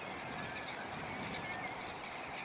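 Birdsong and insect chirps from a field recording on a small island once used as a bombing range, playing back as a steady, dense outdoor ambience with thin high calls over a continuous low hiss.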